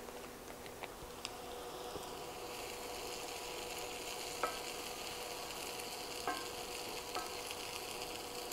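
Shredded cheese is stirred through a loaded breakfast skillet with crisped bacon, a steady close sizzle of frying food running throughout with a few soft scrape and clink accents from the utensil.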